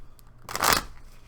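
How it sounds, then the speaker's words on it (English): A single quick riffle of a deck of cards being shuffled, a brief papery flutter in an otherwise quiet room. "you want me to shuffle twice?"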